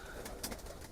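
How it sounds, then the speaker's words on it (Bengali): Teddy and flying pigeons in a sale lot coo faintly, with a couple of soft, brief calls over low background noise. "আর এই পাশে আছে সব ফ্লাই করা কবুতর"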